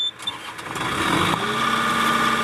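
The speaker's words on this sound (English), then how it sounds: "let's go ahead and turn the skid loader back on" A skid loader's engine cranks and catches, rising into a steady mid-pitched running rumble on a farm during manure spreading, close and fairly loud with no voices.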